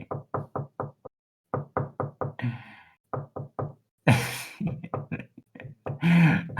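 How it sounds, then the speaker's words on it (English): Knuckles rapping on wood in quick runs of sharp, close knocks, pausing and resuming, with a few louder bursts of noise between the groups. "I'm knocking wood."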